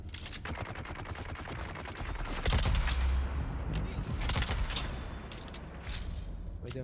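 Gunfire in the video game Dune Awakening, rapid bursts of shots near and far over a busy background, with a heavier thump in the middle and a voice faintly present.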